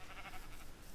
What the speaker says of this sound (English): there's a sheep in this ravine-like